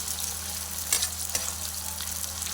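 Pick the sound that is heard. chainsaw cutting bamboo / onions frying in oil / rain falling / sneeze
onions frying in oil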